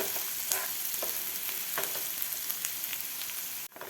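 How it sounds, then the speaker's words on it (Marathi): Chopped onion sautéing in a pan for a soybean paratha filling, a steady close sizzle with a few spatula scrapes and stirs throughout, cutting off abruptly near the end. "कांदासुद्धा आपल्याला दोन ते तीन मिनिट व्यवस्थित परतून घ्यायचा आहे जास्त लाल नाही करायचा"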